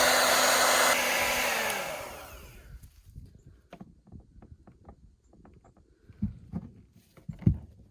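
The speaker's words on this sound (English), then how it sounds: "use a hair dryer or a heat gun just to heat up the plastic" A steady hair dryer roar heating a plastic storage tote runs for about two seconds, then winds down, followed by scattered light knocks and handling clatter.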